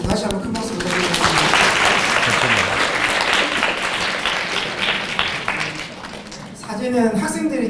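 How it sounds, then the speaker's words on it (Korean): A convention-hall audience of parents and students applauds a student speaker, sustained clapping from a large crowd with a speaking voice over the start and again as the applause fades. "수고한 정재 학생한테 다시 한번 큰 박수 부탁드리겠습니다."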